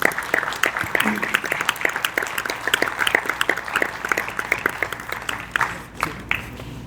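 Steady applause from an audience at a gathering, with dense overlapping hand claps that carry on for several seconds at an even level before easing slightly near the end.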